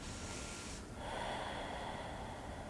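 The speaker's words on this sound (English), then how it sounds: "One more big breath." A deep, close breath taken during a seated forward-fold hamstring stretch with a strap in a flexibility yoga class: a steady airy rush that shifts tone about a third of the way through, as if turning from inhale to exhale, with no talking.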